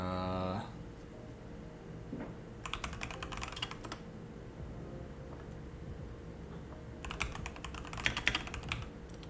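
Steady clatter of keys being typed on a Keychron V3 mechanical keyboard with Gateron oil switches, close and clear, with denser bursts of keystrokes in two stretches and lighter tapping between.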